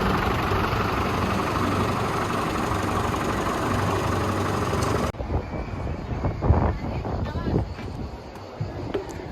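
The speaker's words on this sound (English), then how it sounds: "What powers the ride to go around? It's a real propeller." Real propeller spinning to power an airplane ride at Tibidabo amusement park in Barcelona, a steady loud engine-like drone for about five seconds that then drops to a quieter, uneven rumble with wind buffeting.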